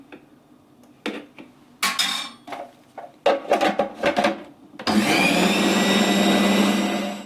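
Food processor grinding a pide filling of meat with black pepper and tomato paste. A few clatters and knocks come first, then short pulsed bursts, then a loud continuous whirring grind for a couple of seconds.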